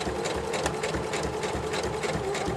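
Sewing machine stitching thick quilt fabric, a fast steady mechanical chatter with a rhythmic low thump, running continuously and close up.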